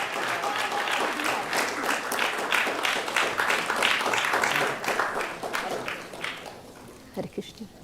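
Dense applause from a gathered crowd at a Sunday feast program, honoring a birthday and the family, sustained for about six seconds before thinning into a few scattered claps.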